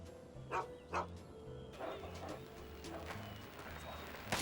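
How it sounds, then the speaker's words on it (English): Dog named Doc in Fallout 3 gives several short, mid-distance barks and yips over a low droning game soundtrack, the bursts spaced irregularly across the scene. "A dog named Doc."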